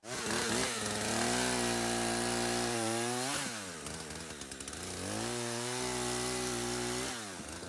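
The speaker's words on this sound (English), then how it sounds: "and then go ahead and saw my logs." A chainsaw saws through firewood logs. The engine whines loud and close, revving steadily, dropping briefly twice and then surging back up as the chain bites the wood.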